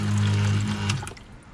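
A camper water pump in a Toyota Hilux Alu-Cab canopy fit-out runs at about 4.5 liters per minute, giving a steady close electric hum with water flow that cuts off after about a second, leaving a faint trickle.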